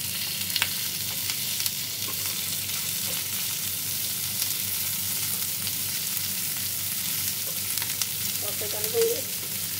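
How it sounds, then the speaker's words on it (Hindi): Onion and capsicum fry in a pan with a steady, soft sizzle that holds throughout, joined by occasional light stirring clinks and a brief tonal scrape near the end. "हल्का सा ब्राउन कर लेंगे प्याज शिमला मिर्च को।"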